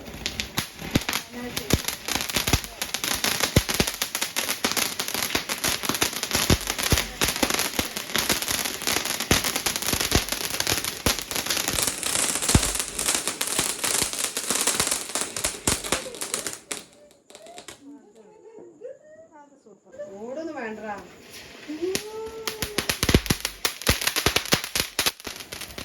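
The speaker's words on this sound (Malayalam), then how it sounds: "അങ്ങനെ നിരത്തി വെച്ച പടക്കങ്ങളെല്ലാം പൊട്ടിച്ച് തീർത്ത്" Rapid crackling bursts of firecrackers set off on Vishu night in Palakkad fill the first two-thirds, loud and close, then give way to quieter scattered pops while people talk.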